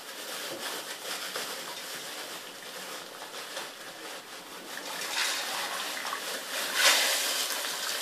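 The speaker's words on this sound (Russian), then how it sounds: "Высыпаю туда кукурузу." A steady rushing, pattering pour of dry corn kernels into a pot of water, continuous and close, swelling slightly toward the end.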